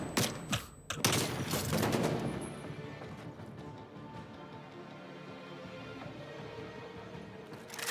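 Gunfire in a Call of Duty search and destroy tournament match: a couple of loud sharp shots and a quick burst open, followed by fading echoes and quieter game ambience with faint clicks.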